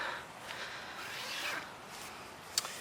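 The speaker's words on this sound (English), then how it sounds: "Zipper, nice lightweight zipper, little pull with a string." The lightweight zipper on an MSR Freelite 1 tent is pulled by its string tab, giving a soft, quiet rasp in a few short strokes, ending in a small click.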